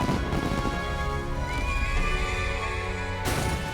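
In the video game Metaphor: ReFantazio, a horse gives a clear, drawn-out whinny over a bed of game music, and a brief burst of ambient noise follows at the end.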